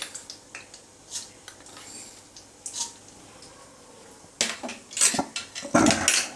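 Mustard seeds are stirred in a pan while dry-roasting over moderate heat for a crisp poha chivda: scattered light clinks and scrapes, then louder, denser scraping bursts near the end, with no talking.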